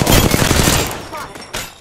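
Video game gunfire rattles in a dense, loud burst of rapid shots up close, tapering off with a couple of scattered cracks.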